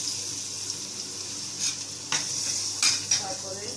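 Crushed garlic and ginger frying in a pan, a soft continuous sizzle punctuated by a few light clinks and scrapes of a utensil against the pan.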